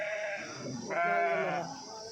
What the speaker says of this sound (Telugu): జత గొర్రెలు